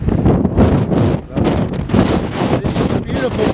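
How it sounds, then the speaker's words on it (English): Strong wind buffets the microphone on a stormy Pacific coast, a loud, continuous roar with rushing gusts throughout, while someone talks over it. "But I tell you, it is windy, windy, windy."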